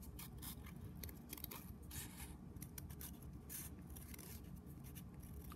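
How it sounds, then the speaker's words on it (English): Quiet, close-up scissor snips and paper rustling, repeated in an uneven rhythm with soft scraping between cuts. "then you can stick your scissors,"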